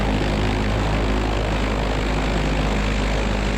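The UL Power 350 engine of a Zenith CH 750 Cruzer light sport kit airplane drones loudly and continuously at run-up, a close, steady propeller roar.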